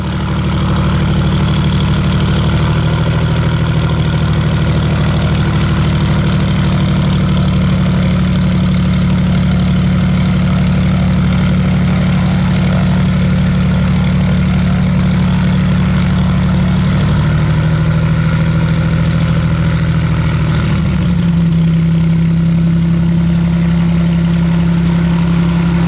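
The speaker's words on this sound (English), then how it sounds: "aircraft of mine is powered by a Continental. It's an IO 470, which is an injected 470" A Yeoman Cropmaster 250 agricultural aircraft's Continental IO-470 fuel-injected piston engine idles close by, a loud steady low propeller drone that drops slightly in pitch near the end.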